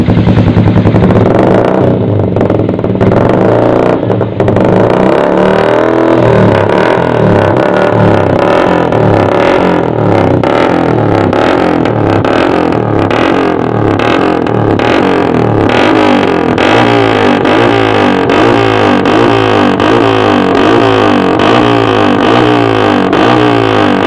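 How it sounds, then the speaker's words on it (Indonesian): A motorcycle with a loud RPL Kobra Ngeong Diamond aftermarket exhaust revs repeatedly up close, deep throaty blasts rising and falling in a steady rhythm over an idling rumble. "bagaimana keseruan dan suara dari knalpot Kobra Ngeong Diamond terbaru dari RPL"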